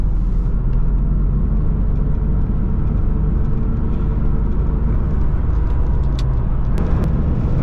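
A 1995 BMW 325i E36 pulls onto a highway, its engine droning steadily as road rumble and wind fill the cabin, the tone holding a continuous, fairly loud drone throughout.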